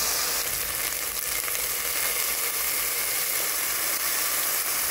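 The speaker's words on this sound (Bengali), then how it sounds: "এবার আমি উপর থেকে চপ টমেটো ঢেলে নেব, যেটা ক্যান টমেটো আমি ইউজ করছি এখানে" Canned chopped tomatoes hitting a hot pan while cooking paneer tawa masala, giving a steady, loud sizzle and hiss of frying that carries on without a break.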